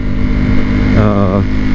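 A 2014 Ducati Hypermotard SP motorcycle engine drones loudly and steadily, its pitch briefly rising and wavering as it revs, with a voice talking over it.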